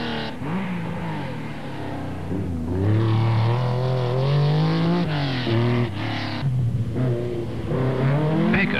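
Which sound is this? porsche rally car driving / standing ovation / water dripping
porsche rally car driving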